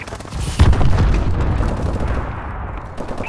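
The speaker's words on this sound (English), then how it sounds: "Friendly missile strikes incoming." Missile strike explosions in Call of Duty: Advanced Warfare, a heavy booming blast that hits sharply then rolls on in a long rumbling series of impacts and gunfire.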